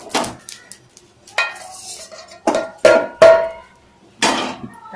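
Roasted sesame seeds are scraped out of a metal pan, giving several sharp, close clanks and scraping strokes spaced out over a few seconds, each ringing briefly before quiet gaps.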